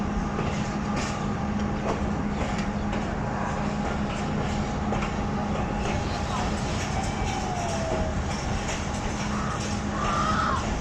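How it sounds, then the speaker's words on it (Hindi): Fareed Express passenger train slowing to a stop at a railway station in rain, a steady close rumble of wheels and carriage noise with faint squeals and clicks throughout, faint chatter mixed in. "ट्रेन अब बसीरपुर रेलवे स्टेशन पर स्टॉप करेगी।"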